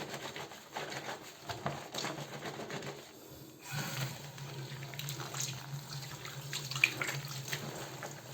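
Towels are washed by hand with soap under running water, a steady close splashing and tap flow with rubbing and sloshing throughout.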